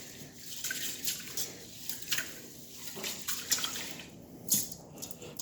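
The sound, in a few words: basmati rice rubbed between fingers while washing in water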